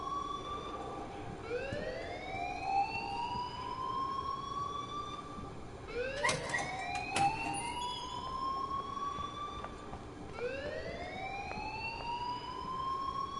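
An alarm rings in the video game Life is Strange, a loud, repeating rising siren-like wail that sweeps upward in several long cycles, steady and close, with a few sharp clicks partway through.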